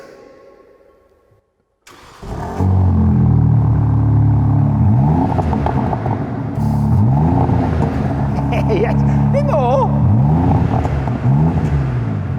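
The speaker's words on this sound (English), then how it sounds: "we'll get a cold start as well. So, can you start the engine, please?" A new BMW M3/M4 engine cold-starts, cranking and firing into a loud, rumbling idle, then revs up and down several times close by, with brief talk over it.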